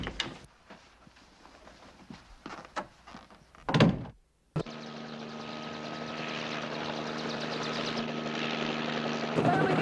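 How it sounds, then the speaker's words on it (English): A door thunks shut after quieter scattered knocks, then a loud helicopter engine drones steadily on a rooftop, its rotor hum building louder toward the end. "The helicopter's waiting on the roof, Mr. Colby."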